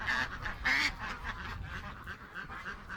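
Ducks quack near a farmyard gate, several nasal calls in quick bursts at the start and then softer repeated quacks over steady background noise, no talk.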